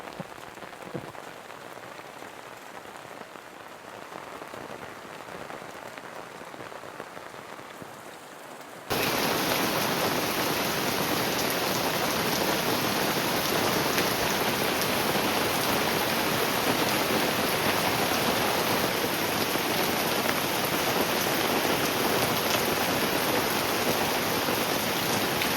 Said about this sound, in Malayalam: ഇതൊക്കെയാണ് ഇവിടുത്തെ കാഴ്ചകൾ, മഴക്കാല കാഴ്ചകൾ.